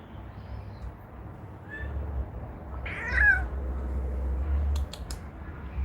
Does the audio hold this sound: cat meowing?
yes